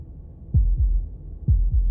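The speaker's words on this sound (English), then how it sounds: "That was the sound of a heartbeat" Heartbeat sound effect from the video game Slay the Princess: two deep double thumps, lub-dub pairs about a second apart, loud and close over a low hum.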